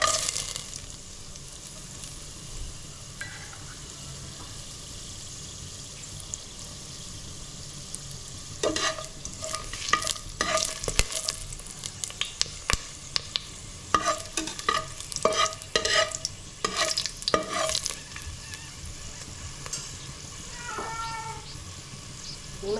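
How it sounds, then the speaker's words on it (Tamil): Crackling sizzle of cinnamon, cloves, cardamom and star anise frying in hot oil with sharp pops and stirring clatter, quiet at first then busier in the middle, no speech. "எண்ணெய் சூடாயிட்டு இதில் வந்து பட்டை கிராம்பு ஏலக்காய் அன்னாசிப்பு எடுத்து வச்சுருக்கிறேன் இப்போ சேர்த்துக்கலாம்"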